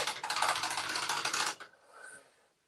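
Bare keys on a string synthesizer with no keyboard rubbers clack in a fast, dense rattle for about a second and a half, then stop, leaving a few faint clicks.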